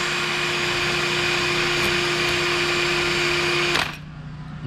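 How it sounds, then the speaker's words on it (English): A steady, loud drill whir with a high whine runs continuously as a copper wire brush polishes metal on a 2000 Acura Integra engine, then cuts off near the end, leaving a quieter hum. "I have this copper kind of a wire brush on my drill, and it's been cleaning it off"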